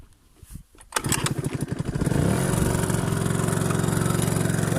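An Aprilia SR 50 motard scooter is kick-started: a few quiet strokes, then the small two-stroke engine catches with a sputtering burst and settles into a steady, loud buzzing idle.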